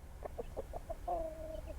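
Backyard chickens and a rooster on a permaculture homestead, a quick series of soft clucks followed by a drawn-out tonal call, close by and fairly quiet.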